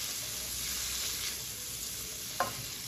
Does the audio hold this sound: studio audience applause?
no